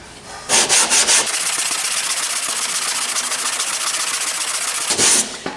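Sandpaper rubbed by hand across body filler on a 2012 Chevy Impala, a steady, close scratching sweep that runs continuously with brief louder strokes at the start and end.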